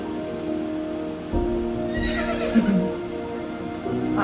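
Horses on a farm whinny and neigh through the trees, a couple of calls rising over a steady outdoor background with faint hoof and rustling sounds, moderately close.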